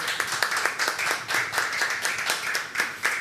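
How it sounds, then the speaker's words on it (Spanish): A live audience at a storytelling event claps rhythmically and fairly loudly, with sharp, evenly spaced hand claps throughout. "El aplauso fortísimo para ustedes por ser tan maravilloso público."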